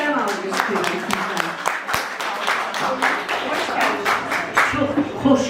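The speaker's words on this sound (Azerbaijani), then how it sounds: "Gəlin də sənətkarımızı gözəl alqışlayaq." Concert-hall audience clapping for a performing artist, steady rhythmic applause near the microphone with voices mixed in underneath.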